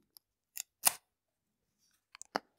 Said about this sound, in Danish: Og så tager jeg lige et stykke tape på den.